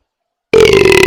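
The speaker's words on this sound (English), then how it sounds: "Man burp. Excuse me." A man lets out a loud, close belch that starts abruptly after a moment of silence and drags on with a rough, throaty tone.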